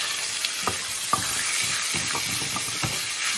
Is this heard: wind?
no